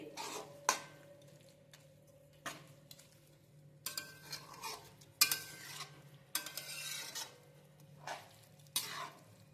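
Carrot halwa mixture being stirred in a pot, quiet scraping strokes and spoon taps against the metal in an irregular rhythm, with a faint sizzle between them and no talk.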